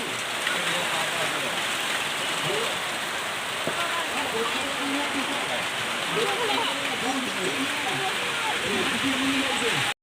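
Steady, dense rain falls throughout an outdoor football match between young and old men, a continuous hiss with faint voices and shouts underneath.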